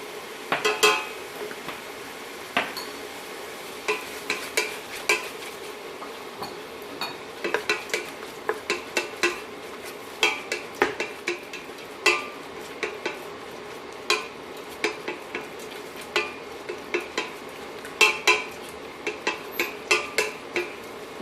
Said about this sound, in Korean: 이렇게 달달 볶다가 고기를 김치를 넣고 같이 볶아줍니다.